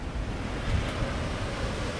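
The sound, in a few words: ocean surf with waves coming in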